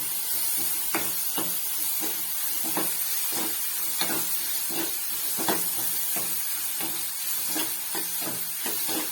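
Crushed garlic fries in hot oil for onion gojju, a steady loud sizzle and hiss with regular crackling pops and stirring scrapes throughout.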